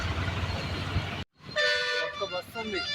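Lorries pass on a road during a town shutdown, a loud continuous traffic rumble cut by a brief dropout, then a sustained horn toot with harmonic tones and a second honk, close by under the wind of the street.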